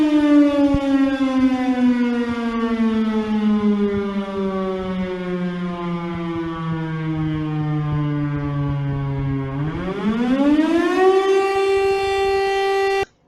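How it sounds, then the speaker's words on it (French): City siren in Compiègne, resembling a wartime air-raid siren and sounded to mark the start of a curfew, wails steadily with a slowly falling pitch, then rises again near the end before cutting off; loud and continuous, no voices. "la ville a lancé une sirène qui ressemble vachement à la sirène de guerre, hein, pour marquer le début du couvre-feu"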